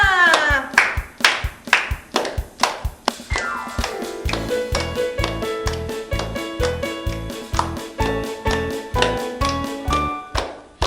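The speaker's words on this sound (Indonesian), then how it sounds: "Tepuk tangan semua." Children at a church worship service clap their hands in a steady rhythm along with upbeat music, the sharp claps landing on the beat close by and standing out over the melody.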